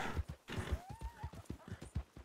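Horse hooves clip-clop at a steady walking rhythm in the RedM (Red Dead multiplayer) game world, with close, distinct thuds and one faint whinny-like tone drifting over them.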